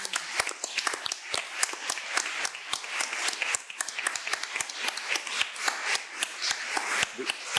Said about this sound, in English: I want an applause to Anachu Zabalbeaskoa.